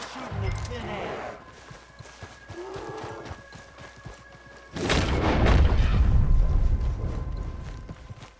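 Gunfire in the western game Red Dead Redemption 2, a heavy booming blast with a long rumbling tail midway, preceded by quieter horse hooves, footsteps and someone speaking.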